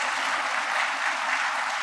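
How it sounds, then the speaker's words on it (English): Brief, dense round of applause from the audience at a Delhi University Founder's Day celebration, a steady wash of clapping with no breaks. "Can we have a huge round of applause for him?"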